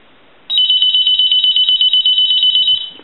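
On its high setting, a novelty M&Ms Polyconcept telephone's piezo buzzer rings: a sharp, rapidly pulsing electronic trill, loud and close, starting abruptly and running about two and a half seconds.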